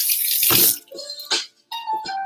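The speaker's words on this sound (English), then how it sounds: "we're gonna rinse that off really well" Kitchen tap water running in short bursts as food is rinsed under it, splashing into the sink with brief pauses between gushes, close and fairly quiet.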